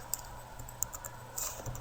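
Quick light keystrokes on a computer keyboard as a spreadsheet formula is entered in Microsoft Excel 2016, a short close burst of clicky taps at uneven pace with no talk.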